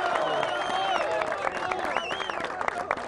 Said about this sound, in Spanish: Un aplauso para el Pato.